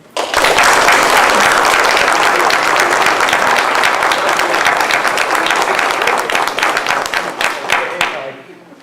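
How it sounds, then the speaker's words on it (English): Loud, close audience applause at a high school Wall of Honor award ceremony: many hands clap in a thick, continuous roar for about eight seconds, then it quickly thins out and stops. "Please give a round of applause to Mr. Robert Flynn."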